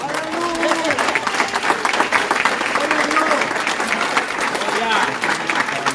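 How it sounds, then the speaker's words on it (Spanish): Congregation applause at a Pentecostal evangelistic service in Hellertown, PA, steady clapping throughout with a preacher's voice and singing tones carrying over it. "Denle un aplauso al Señor."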